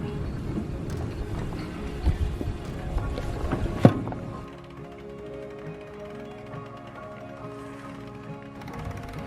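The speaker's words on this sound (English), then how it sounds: "We are going to have to winch it up." A sailboat's anchor winch ratchets and grinds mechanically as the anchor is hauled up, fairly loud and close with a sharp clack near the middle, then settles into quieter creaking mechanical noise.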